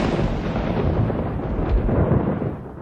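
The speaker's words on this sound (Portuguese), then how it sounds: "houve uma forte tempestade" Thunder from a heavy storm rolls as a deep, sustained rumble with low booming swells, loud and continuous, with no voices.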